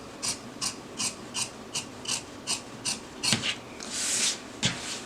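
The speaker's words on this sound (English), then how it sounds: "This is the lining, so I'm just gonna snip the corners. Trim this down a little bit." Scissors snipping and trimming the corners of a denim book sleeve lining, a series of about ten short, crisp cuts at a steady rhythm, close and fairly quiet, with a brief longer rasp near the end.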